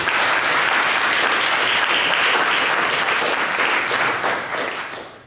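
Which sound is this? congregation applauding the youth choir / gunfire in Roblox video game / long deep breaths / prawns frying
congregation applauding the youth choir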